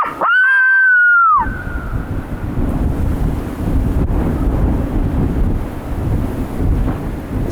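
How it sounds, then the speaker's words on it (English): Strong, cold wind outdoors roars and buffets the microphone in a steady low rumble, following a brief sustained wavering tone at the start. "Long, cold, windy day."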